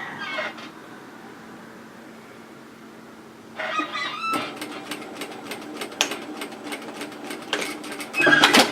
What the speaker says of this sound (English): we're going to stitch that in 1 centimetre in from the curve and then 1 centimetre down